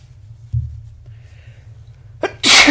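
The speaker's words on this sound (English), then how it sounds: "And I just sneezed on the air." A single loud, sharp sneeze bursts out near the end, close to the mic, after a low rumble and a quiet breath.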